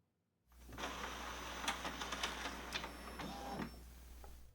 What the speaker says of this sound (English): Now send it to print.